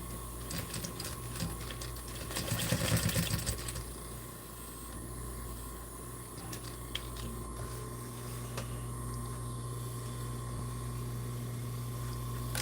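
A sewing machine stitching, a steady close mechanical hum with rapid ticking needle strikes, louder in a short early burst and then running on evenly with no talk.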